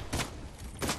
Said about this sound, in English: I'm definitely getting shot from behind!